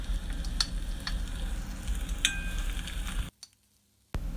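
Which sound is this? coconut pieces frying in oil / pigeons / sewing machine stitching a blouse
coconut pieces frying in oil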